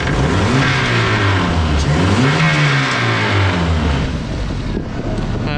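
A K11 Nissan Micra super turbo time-attack car at Donington Park with a gearbox fault revs loudly up and down close by, with a rough, gravelly mechanical note as the throttle comes off, and wind noise throughout.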